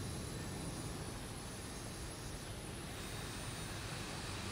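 Embraer E190 jet engine in the X-Plane 11 flight simulator, a steady broadband roar and whine holding level throughout with no talk.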